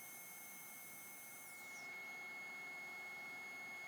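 A steady whirring hiss of sanding on a spinning maple burl and epoxy bowl on a lathe, constant and fairly quiet, with a high tone that shifts partway through.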